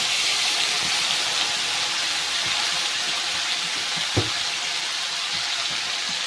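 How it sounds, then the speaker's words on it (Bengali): Dry red chillies and nigella seeds tempering in hot oil for a Bengali rohu fish curry, a steady broadband sizzle and hiss running throughout with one brief pop near the end, no talking. "তেলটা গরম হয়ে গেছে দিয়ে দেবো দুটো শুকনো লঙ্কা চামচ মতো কালো জিরে ফোড়ন"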